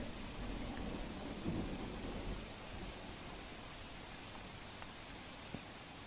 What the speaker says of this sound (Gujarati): બારડોલીમાં સતત બીજા દિવસે ભારે વરસાદી માહોલ જામેલો છે